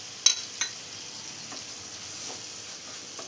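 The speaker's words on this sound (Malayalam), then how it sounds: "ഇനി ഇതെല്ലാം കൂടെ നന്നായി തന്നെ ഒന്ന് വഴറ്റിയെടുക്കണം." Onions sauté with green chilies, curry leaves and salt in a pan, a soft continuous sizzle opening with two sharp utensil knocks and a few gentle stirs, quiet and without talk.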